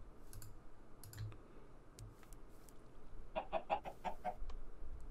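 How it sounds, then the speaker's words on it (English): Minecraft chickens cluck in the video game, a quick run of several short, bright clucks bunched together in the second half over a low, steady background. "Here, chickens."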